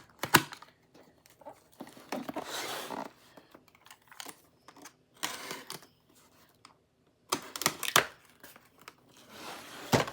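Packing tape ripped and peeled off a cardboard box with a handle, in several sharp tearing bursts with crinkling and rustling between them, close and fairly loud.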